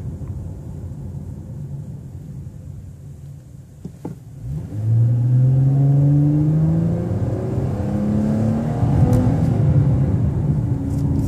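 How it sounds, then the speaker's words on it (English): A 2014 Dodge Challenger muscle car idles with a low rumble, then its engine roars up loud and climbs in pitch as it accelerates, holding a strong, throaty drone to the end. "That's what a muscle car is about. Loud, aggressive sound."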